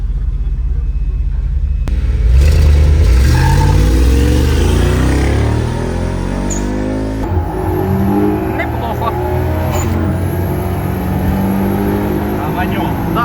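A carbureted car engine rumbles and revs up close, rising and settling, while people talk and laugh over it.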